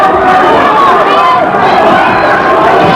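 At a boxing match, Wayne McCullough against Conn McMullan in round one, a packed crowd roars in a steady, loud wall of cheering and chatter that never lets up.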